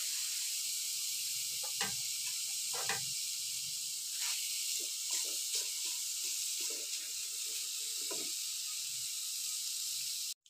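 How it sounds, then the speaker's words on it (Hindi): Beef fat rendering down into oil in a karahi over a fire gives a steady close hiss and sizzle, broken by scattered sharp pops and crackles, with no talking. "डालेंगे चर्बी को इससे तेल निकालेंगे"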